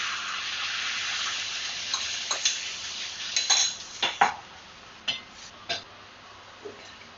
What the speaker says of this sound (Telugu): ఇంకా మన ఆమ్లెట్ మిక్స్చర్ దీనిలో వేసేద్దాం.